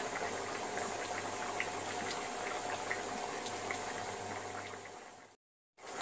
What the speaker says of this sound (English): And now let it simmer.